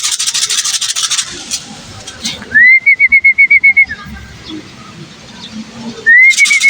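A pigeon makes a rapid run of whistling pulses against outdoor noise and hiss, then a second short burst follows a few seconds later.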